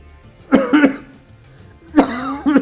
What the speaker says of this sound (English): still coughing a little bit